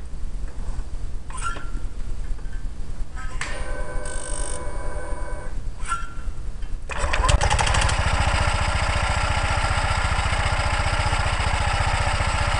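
A Honda PCX scooter with a modified variator cranks with several brief starter bursts, then its engine catches and settles into a loud, steady running idle up close.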